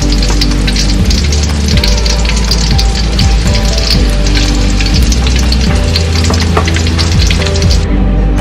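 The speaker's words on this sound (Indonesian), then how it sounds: "sekarang saya mau tumis daun pakis" Fern leaves stir-frying in oil in a pan give a steady, loud, close sizzle and crackle that runs the whole time with no talking.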